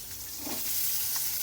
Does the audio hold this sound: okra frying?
yes